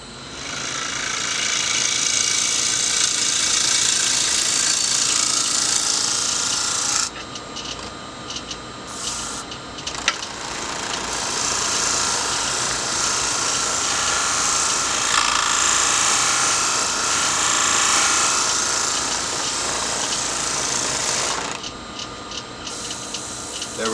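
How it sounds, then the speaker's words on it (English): A pignut hickory bowl being scraped on a spinning lathe gives a steady, loud, bright rasping whir that runs almost continuously, broken by a few short pauses where the tool lifts off the wood. "I'm going to do a little bit more scraping."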